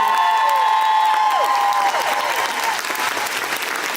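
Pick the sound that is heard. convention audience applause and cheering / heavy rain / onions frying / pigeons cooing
convention audience applause and cheering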